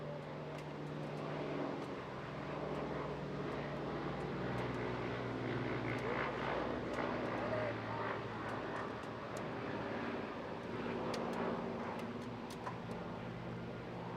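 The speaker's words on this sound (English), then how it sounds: "Really impressive aircraft. It may be slow, but hugely capable." A Fairey Swordfish biplane flies past at a seaside air festival, its steady propeller-engine drone holding at moderate distance for the whole stretch, with no one talking over it.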